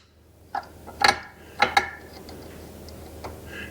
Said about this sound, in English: So the nut or the bolt that holds this on is reverse threaded, so you turn it clockwise to loosen it.